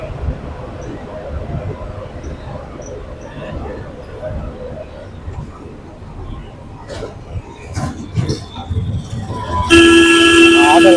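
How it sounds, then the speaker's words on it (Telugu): A metro train runs along a tall elevated bridge with a rumbling rattle that builds. A loud horn blast comes at the end, over outdoor street noise and background voices. "ఇది పైన మెట్రో ట్రైన్."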